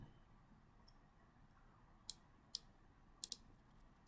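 A computer mouse clicks while working in a database design view, giving a few sharp, quiet clicks spaced apart, including a quick double click, over faint room hiss.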